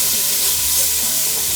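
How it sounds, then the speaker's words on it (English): Bacon sizzles in a pot on an electric stove at medium-high heat, giving a steady, bright, hissing fry that stays constant and close with no break. "Put on medium-high temperature on the electric stove. And as it starts to cook, the fat will render off"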